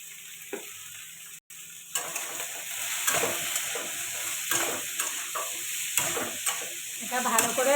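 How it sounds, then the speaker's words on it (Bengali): Potato pieces fry in a pan with salt and turmeric, a steady sizzle broken by frequent scraping and clinking stirs at close range. "আলুতে একটু লবণ আর একটু হলুদ দিয়ে ভেজে নেব"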